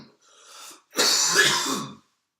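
Harsh throat-clearing cough after inhaling cannabis, a short rasp followed by a louder, longer hacking burst, close and alone.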